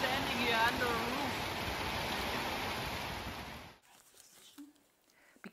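Heavy thunderstorm rainfall pours down in a garden as a dense, loud, steady hiss, then cuts off abruptly, leaving a near-silent dark cellar with faint scattered knocks.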